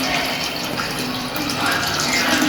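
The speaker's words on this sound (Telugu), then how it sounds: "చింతాకు వాటర్ పోసుకోవాలి." Tamarind leaf water pours steadily into a cooking pot, a continuous close gushing splash that holds at an even level throughout the short moment.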